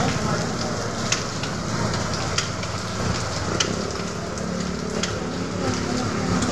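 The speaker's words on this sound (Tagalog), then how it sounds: "Ang lakas kasi ng ulan." Heavy rain falls at a market during a thunderstorm, a dense steady roar with scattered sharper drips and patters. Faint voices sit in the background.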